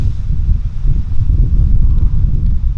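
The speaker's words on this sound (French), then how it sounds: "là on va arriver dans un endroit où le vent risque de taper très fort" Strong wind buffets the microphone at an abandoned coal washing plant out in open countryside, a loud, steady low roar with gusty surges throughout and no voices.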